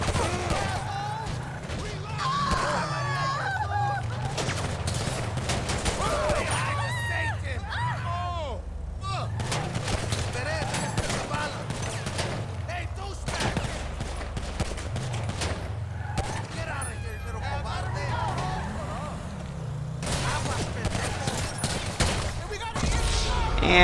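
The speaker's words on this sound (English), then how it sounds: "you can get the gun that he gave you and shoot these guys" Video game gunfire crackles in repeated bursts and volleys across a busy combat scene, layered over engine rumble and background noise, with someone talking over it.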